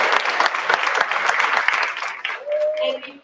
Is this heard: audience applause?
yes